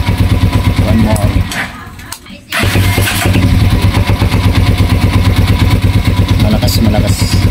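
A motorcycle engine runs loud and close, drops out for a moment as the electric starter cranks, then fires back up into a steady, throbbing idle.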